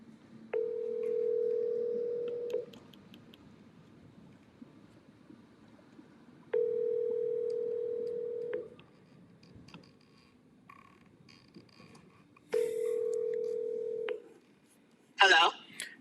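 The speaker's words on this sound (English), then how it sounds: "let me make a phone call real quick." Telephone call tones: three evenly spaced steady beeps, each about two seconds long, with quieter gaps between, followed by a short burst of brighter tones near the end.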